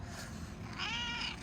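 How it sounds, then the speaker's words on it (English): A cat lets out a soft meow with a purring undertone. The call is quiet and close, rising over a low, steady rumble in the room. "Why are you purring and crying at the same time?"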